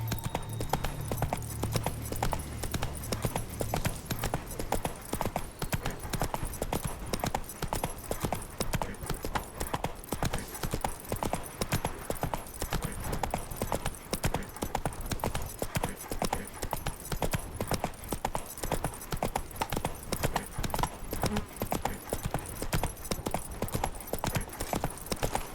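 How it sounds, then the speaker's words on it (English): Rapid, steady hoofbeats of a galloping horse in The Witcher 3 pound continuously and loudly throughout, with a brief low rumble at the start. "Even a horse drops if you ride it at a constant gallop."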